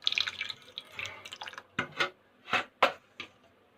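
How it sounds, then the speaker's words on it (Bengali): Water being stirred into a ground bottle gourd leaf and rice batter in a bowl, soft sloshing at first followed by several distinct wet plops and splashes, close and fairly quiet. "এখানে আমি জল দিয়ে গুলিয়ে নেব।"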